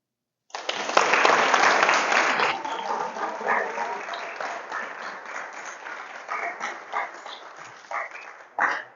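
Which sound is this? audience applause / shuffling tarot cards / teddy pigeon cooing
audience applause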